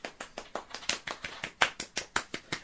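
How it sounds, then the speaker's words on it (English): Soft, restrained golf-style clapping, roughly a dozen steady claps at an even pace, fairly quiet and close with no voices over it. "Golf clap."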